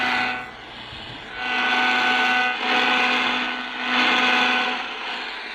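Buzzing, crackling AM radio static picked up from dirty electricity near kitchen stove knobs, loud and harsh with steady hum tones, swelling and easing in waves, close and alone.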